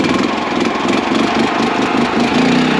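A small engine on a cement mixer runs steadily at a building site for a custom shed, a loud, close, throbbing idle-like drone with a rough, rapid pulse and no talk over it.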